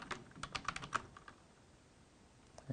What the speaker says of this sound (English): if I kind of type in the password correctly